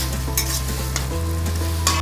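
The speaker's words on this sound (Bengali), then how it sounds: "মশলাটাকে একটু ফ্রাই করে নেব।" Spices with cinnamon, cardamom and cloves fry in a pan for chicken biryani, a close, steady sizzle with brief stirring scrapes and a constant low hum behind it.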